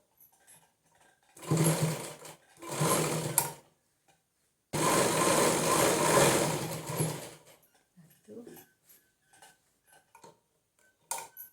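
A sewing machine stitches the lining fabric of an envelope purse in short bursts, two brief runs and then a longer one, followed by faint clicks and handling noises in a quiet room.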